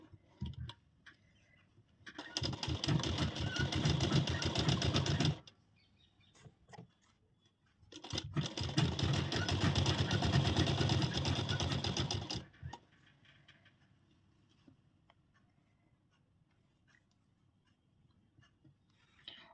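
A sewing machine runs in two long bursts stitching the bottom of a princess-cut broad-neck blouse, a steady close whir separated by a pause, with quiet room tone afterward.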